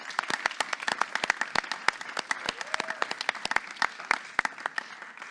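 Audience applause at a Brazilian poetry event, a steady wash of many hands clapping with sharp individual claps standing out, loud and close, with no talk over it.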